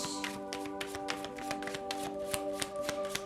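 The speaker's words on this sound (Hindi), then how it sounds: "शफल कर लेते हैं कार्ड्स को ऑप्शन 2 के लिए" Tarot cards being shuffled by hand, a steady run of rapid papery riffles and soft taps, close and quiet over a faint steady background hum, with no one speaking.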